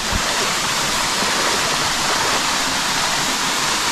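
A rainforest creek in Australia rushes steadily, a dense, unbroken wash of water running close by with no voices over it.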